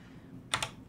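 A couple of quick keystrokes clack on a computer keyboard during a FreeBSD setup, two close taps over a low steady hum.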